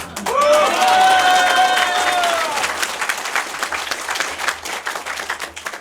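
Audience applause from a crowd at a political talk event held at Seoul Station, dense and loud clapping that fades gradually, with a tonal whistle-like sweep early on and no speech over it.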